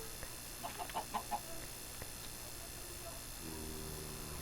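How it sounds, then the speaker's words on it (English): A quick run of five or six soft clucks from Minecraft chickens sounds faintly over a low steady hum, followed by quieter game ambience. "there's a lot of chicken here"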